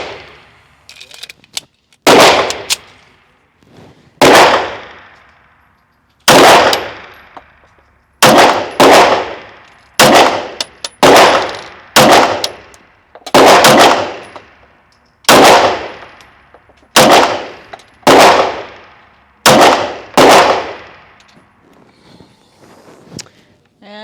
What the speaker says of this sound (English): so we're gonna load up and shoot some more